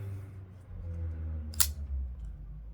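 An XM-18 folding knife blade swinging open: a single crisp, close metallic click over a faint low background hum.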